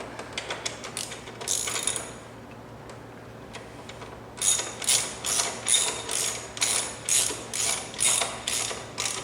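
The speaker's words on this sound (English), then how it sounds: "that is ready to get snugged up with the ratchet at this point." Ratchet clicking while snugging the frame slider bolts on a Yamaha R3 motorcycle, with a quick burst of clicks, then a pause and a steady run of repeated ratcheting strokes, close and fairly loud with no talk.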